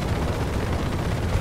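A deep, rumbling explosion blast from the air-combat video game War Thunder, loud and sustained through the brief moment, with no talk over it.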